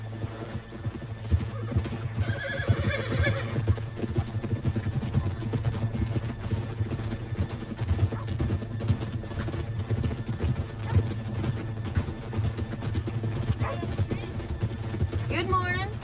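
Horse hooves clip-clopping and a brief whinny in the video game Red Dead Redemption 2, set against steady game music and ambience, with speech through much of the clip.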